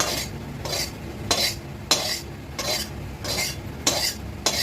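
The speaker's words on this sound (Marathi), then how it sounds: "हे आपण तुपात थोडी भाजून घेऊ" Fenugreek powder roasting in ghee in a pan, with a steady rhythm of loud, scraping spatula strokes against the metal and a light sizzle between them, close up.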